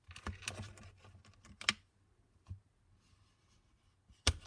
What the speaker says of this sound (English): I will take my bone folder and give it a good burnish on each side